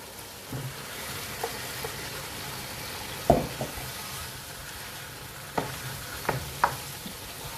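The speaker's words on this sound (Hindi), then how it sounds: "तो अब हम इसके अंदर डालते हैं कीमा। यहाँ पे आराम से डालिए कीमा।" Finely minced mutton keema frying in a karahi over a tomato puree base, giving a steady close sizzle broken by a few sharp clacks and scrapes of stirring, with no talking.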